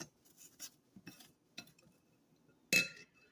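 Apples being grated by hand for a Swiss apple pie, giving short scraping strokes at an uneven rhythm, close and fairly quiet, with one louder clinking hit near the end.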